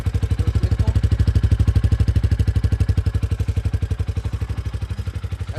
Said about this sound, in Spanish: cómo suena el escape